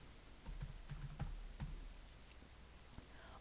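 Typing on a computer keyboard: a short run of quiet, close key clicks, then a couple of isolated taps over a faint low hum, with no talking.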